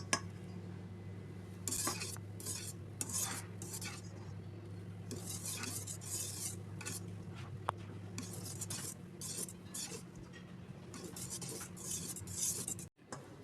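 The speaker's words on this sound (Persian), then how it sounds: "خیلی آروم هم میزنیم، نباید پف موادمون بخوابه" Cake batter for an apple pie, with butter and oil added, gently stirred in a bowl, soft repeated scraping and light clinks of a utensil over a faint low hum, quiet and close.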